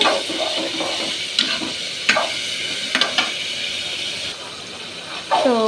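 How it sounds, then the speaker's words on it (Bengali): Papaya and taro are sautéed with mustard paste in a pan, giving a soft, continuous sizzle broken by a few sharp clacks of a spatula against the pan. "এখন আমি এতে দিয়ে দিব সরষে বাটা দিয়ে ভালো করে কষিয়ে নেব"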